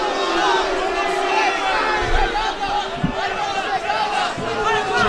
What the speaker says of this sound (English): the crowd getting a little restless here.